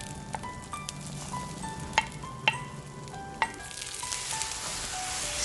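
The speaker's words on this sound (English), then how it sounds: "Stir eggs and veggies for 30 seconds." Eggs and vegetables stirred in a pan with olive oil over medium heat, a steady close sizzle with a few sharp utensil clicks against the pan.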